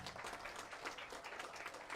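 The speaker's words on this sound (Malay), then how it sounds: "Tepukan yang gemuruh tuan-puan." Audience applause at a political rally in Malaysia, a continuous, fairly distant wash of clapping that stays even for the whole short stretch, with no talk over it.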